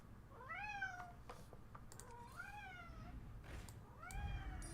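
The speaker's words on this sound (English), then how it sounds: "My cat's letting me know what's up." A pet cat meows three times in a home setting, each a drawn-out, rising-then-falling call spaced about a second and a half apart, quiet over a low background hum.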